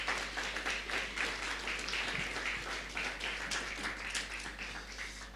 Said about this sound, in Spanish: Una vez más vamos a dar, por favor, fuertes aplausos.